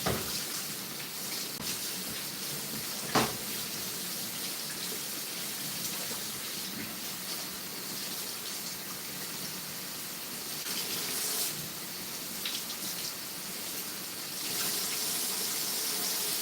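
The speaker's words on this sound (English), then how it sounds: "let's wash this off" Tap water runs steadily into a kitchen sink while beef is rinsed for a Chinese beef and vegetable dinner, a continuous hissing flow with a brief knock near three seconds and a slight rise toward the end.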